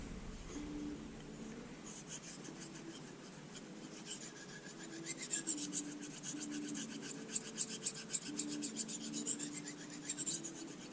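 Opinel folding knife blade stroked along the 6000 grit side of a whetstone, giving a steady, quiet rasping scrape in repeated strokes that grow a little denser and louder toward the end, with no talking.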